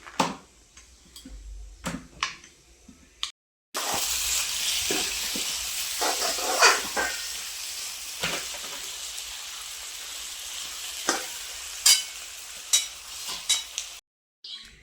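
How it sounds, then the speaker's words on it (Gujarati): Bitter gourd and onion curry sizzles as it is tempered in a hot pan, a steady crackling hiss with occasional stirring clinks, close and fairly quiet, starting after a short quieter stretch of bumps. "આ બાજુ શાક વઘારવાનું ચાલુ હોય કારેલા ડુંગળીનું શાક બનાવવાનું"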